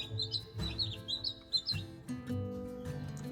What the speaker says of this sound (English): Beautiful little chicks.